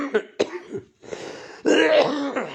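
A man suffering from a cold and cough coughs and clears his throat, a few sharp, close rasping bursts with short pauses, followed by a longer, louder rough clearing.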